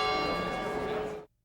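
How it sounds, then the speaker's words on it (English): A huge bronze clock bell in St. Mark's Square, struck by bronze Moor statues, rings loud with a rich humming resonance that cuts off abruptly. "they're made of bronze and they strike the huge bell every hour on the hour"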